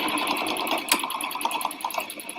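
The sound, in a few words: sewing machine back stitching a denim bag pocket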